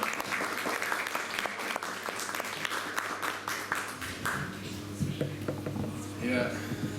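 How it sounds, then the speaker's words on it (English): An audience applauding at a spoken-word event, a dense wash of clapping that thins out midway as voices and crowd murmur take over. "Give yourself a round of applause."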